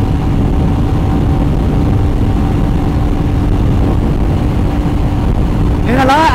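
A vehicle engine held at full throttle in fifth gear on a highway ride toward Revpolavaram Beach near Vizag, a loud steady drone with strong low rumble and wind roar, unbroken for the whole stretch.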